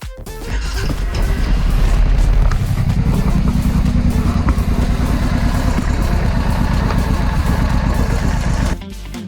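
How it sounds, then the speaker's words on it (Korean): A motorcycle engine fires up after an oil change and settles into a loud, steady idle, close by, its low throbbing rumble running continuously before cutting off abruptly near the end. "이제 필 플러그를 잠그고 시동을 겁니다."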